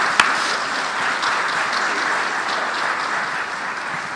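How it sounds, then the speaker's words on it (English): Steady applause from a sizable audience at the Ms. Wheelchair America crowning gala, a dense, even wash of clapping that continues throughout. "can we give them, please, a round of applause?"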